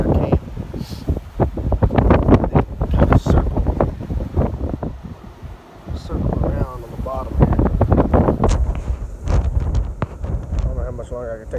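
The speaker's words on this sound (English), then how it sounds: "Take this wind though, ripping, it's ripping hard." Strong, gusty wind buffets the microphone outdoors during a public-land mule deer hunt, a loud continuous roar rising and falling, with someone talking over it.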